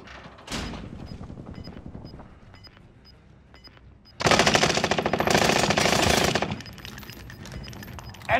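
Gunfire in a Call of Duty match: scattered single shots and short bursts, then a loud sustained automatic-weapon volley lasting a couple of seconds before easing back into quieter background game noise.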